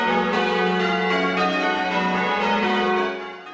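Church bells ring a full Sunday peal marking 70 years of the Queen's accession, overlapping tones sustained and loud throughout, fading slightly at the very end.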